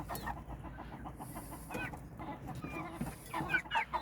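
Chickens cluck and murmur close by, a black rooster's low clucks mixed with scattered short calls from the flock, no one speaking.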